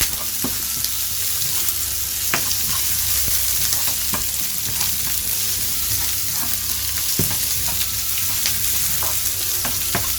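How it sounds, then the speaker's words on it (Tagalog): Onion sautés in a pan for teriyaki hotdogs, a continuous close sizzle and crackle of frying with repeated sharp scrapes and taps of a utensil stirring against the pan. "Sutayin natin mabuti yung onion."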